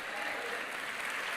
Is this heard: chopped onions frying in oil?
no